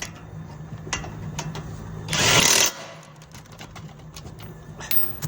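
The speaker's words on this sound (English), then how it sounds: "Put the caliper back and tie the bolts now." Brake caliper bolts on a 2002–2010 Honda Civic are run tight with a power tool, one loud, harsh mechanical burst of about half a second cutting through steady low garage hum, with faint clicks before and after.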